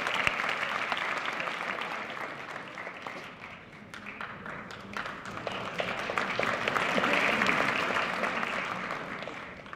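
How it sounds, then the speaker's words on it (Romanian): Spectators at a 2016 sports excellence gala in Iași applaud a dance troupe, producing a steady, moderately distant wash of clapping that swells slightly in the second half. "Aplauze meritate pentru dansatorii de la Reflex Iași"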